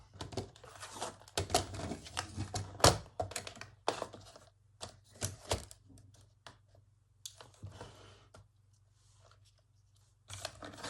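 Paper being cut for a junk journal at close range, a series of crisp snips and crinkling rustles in uneven bursts over a low steady hum, with no talking.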